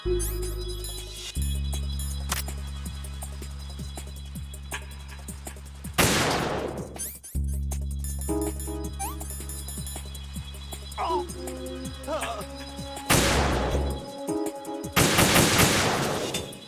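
AK rifle fire in the video game Metal Gear Solid 2, loud bursts of automatic shots over steady game music and sound effects, with a long stretch of continuous in-game noise.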